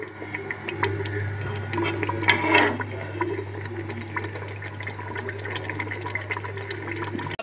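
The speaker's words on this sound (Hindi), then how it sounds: "थोड़ा सा पानी शामिल कर रही हूँ ताकि मैं इसकी थोड़ी सी ग्रेवी बना लूँ" Water pouring into a pan of chicken egg curry, a continuous close splashing and gurgling stream with a faint steady hum underneath, swelling briefly partway through before settling into a lighter trickle.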